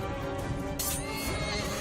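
Horse neighing during a cavalry charge in Mount and Blade II: Bannerlord, a loud close whinny over dense battle noise.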